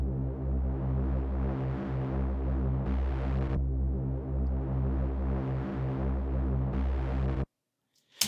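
A warped two-bar drone sample loop in Ableton plays as a thick, throbbing low tone with a brighter swell that comes back each bar, repeating evenly before cutting to silence and a small click.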